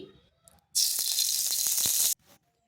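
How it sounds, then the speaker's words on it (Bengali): A spoonful of ghee hits a heated wok, bursting into a loud, bright sizzle after a quiet start, crackling with small pops for over a second before cutting off abruptly. "এখানে কড়াই বসিয়েছি, তাতে দিচ্ছি 1 চামচ ঘি"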